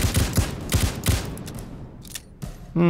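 Hip-fired gun shots in Payday 2, a quick burst of sharp repeated reports in the first second and a half, then scattered fainter game sounds and a low hum at the end.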